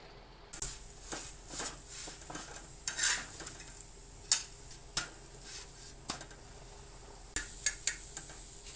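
Sabudana paratha fries on a pan and is flipped to its other side. A soft sizzle sits under scattered clinks and scrapes of a utensil against the pan, with sharp ticks here and there, fairly quiet and close.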